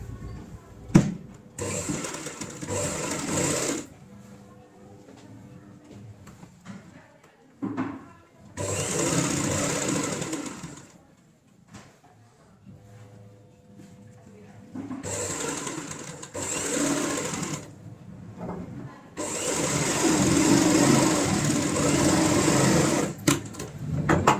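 Sewing machine stitching along an existing zip-joint seam of a homemade tote bag, running in several long bursts of steady whirring separated by quieter pauses with handling noise, close and fairly loud.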